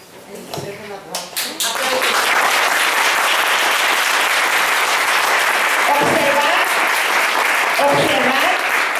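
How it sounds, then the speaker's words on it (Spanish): An audience at a talk on handedness claps together in a test, starting with a few scattered claps that quickly swell into sustained, dense applause filling the room, with voices briefly heard over it. "vamos a hacer entre los presentes el test del aplauso para saber la lateralidad"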